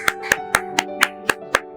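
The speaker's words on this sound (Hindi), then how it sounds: "उनके लिए भी तालियां" A group of students claps in steady unison, seven crisp evenly spaced claps in under two seconds over a faint constant hum.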